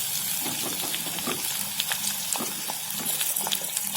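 Tomato and green chilli sautéing together in a pan for a mixed vegetable kurma, giving a steady sizzling hiss with scattered small crackles and stirring clicks throughout.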